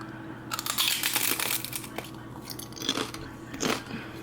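Close crunching and chewing of homemade fried chips, loud crisp bites with crinkling, in irregular bursts close to the microphone.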